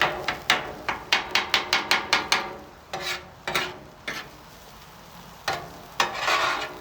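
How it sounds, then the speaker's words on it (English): Metal spatulas chop cheesesteak meat on a Blackstone griddle in a rapid run of sharp, close clacks, then slow to scattered scraping strikes over a soft sizzle, with no talking. "chop them up a little bit more fine"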